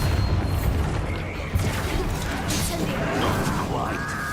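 A Bombarda blasting spell explodes in Hogwarts Legacy, a heavy booming crash with rumbling debris that stays loud and dense, with a voice shouting over it.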